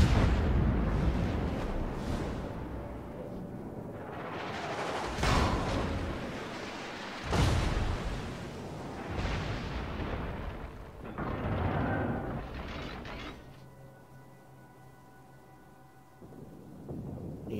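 Naval gunfire in World of Warships, around the cruiser Buffalo: heavy booming salvos roll in one after another, each a deep thunderous blast that fades slowly, with quieter stretches between.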